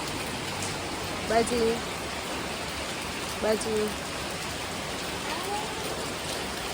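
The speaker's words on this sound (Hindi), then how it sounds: "बारिश हो रही" Rain comes down in Pune, an even, soft wash of drops throughout, with a few short bursts of a nearby voice over it.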